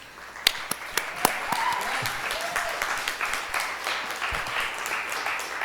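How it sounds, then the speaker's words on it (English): An audience at a university diversity center symposium gives speakers another round of applause, a steady mid-level wash of clapping with a few sharp, louder claps standing out early on. "So give them one more round of applause"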